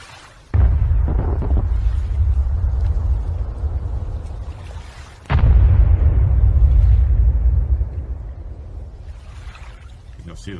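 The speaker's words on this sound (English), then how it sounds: "I'm going to leave the sound on for this one because you can hear the impacts" Two heavy booming impacts, reported as missile strikes on the aircraft carrier USS Eisenhower in the Red Sea, each a sudden deep blast that rumbles on for several seconds before fading, heard from a distance.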